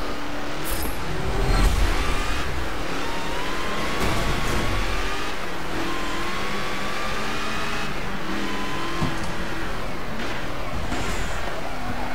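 Race car engine at the Hungaroring in Forza Motorsport 7, a steady loud drone with rising and falling rev tones throughout, several cars audible at once with no voices.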